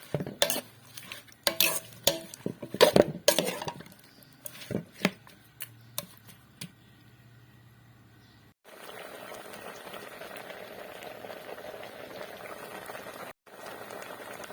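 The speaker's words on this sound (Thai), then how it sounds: "นำมาตั้งไฟ คั่วค่ะ" A utensil clatters and scrapes against a pan in quick irregular strokes while stir-frying Thai melon, then gives way to a steady sizzling, bubbling hiss.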